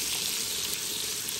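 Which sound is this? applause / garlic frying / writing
garlic frying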